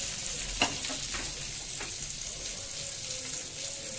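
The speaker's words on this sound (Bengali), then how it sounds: "আর এখন চিতল মাছের ভাজা হচ্ছে, আর ভাত হবে।" Chital fish fries in a pan with a steady, soft sizzle throughout, broken by a couple of light clinks and stirring sounds.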